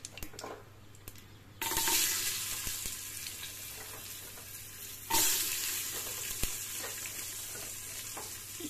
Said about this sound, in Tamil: இப்போ அரிஞ்சு வச்ச சின்ன வெங்காயத்தை அதில் போடலாம்.